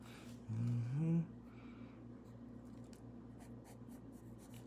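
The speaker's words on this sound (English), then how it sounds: "I like using mechanical pencils" A mechanical pencil scratches across paper while shading a comic-style face, with faint, close strokes in short bursts. A brief low tonal murmur comes near the start.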